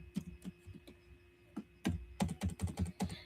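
Irregular key clicks as a resume is typed on a computer keyboard, a few scattered taps at first and then a quicker run of keystrokes, quiet and close.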